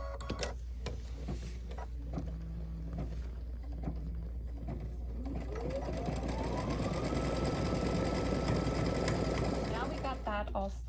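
A sewing machine stitches down pieces of fabric for an Easter tier tray, its needle running in a steady mechanical rhythm that rises and speeds up, with a person talking over it at times.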